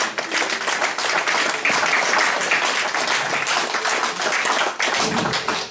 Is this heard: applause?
yes